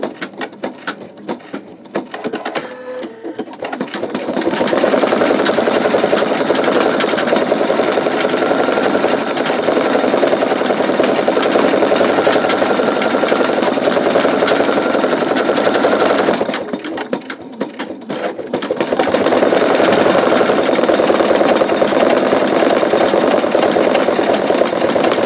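A sewing machine stitches out a bumblebee quilt block, running steady and loud in a fast, even mechanical whir with a brief slowdown partway through before resuming, with no speech.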